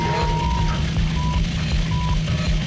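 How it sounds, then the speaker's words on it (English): Electronic beeps sound in the Hot Wheels Mechanix video game, a repeating tone pulsing at regular intervals over a loud, rumbling low background drone, with no talk. "now it's just beeping"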